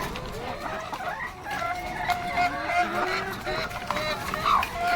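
A crowd of laying hens clucking and squawking on a brown-egg farm, a dense overlapping chorus close by with busy barn background noise.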